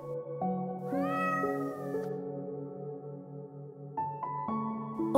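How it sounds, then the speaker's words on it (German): A cat gives a drawn-out, rising meow over a soft, sustained musical backing, with another brief mew near the end. "immer wieder hörst du das Miauen einer Katze"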